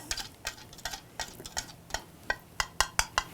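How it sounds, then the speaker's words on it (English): Rapid clinking taps of a spoon stirring starch water in a cup, a steady rhythm of bright, close knocks that speeds up toward the end, with no talking. "Mix it up."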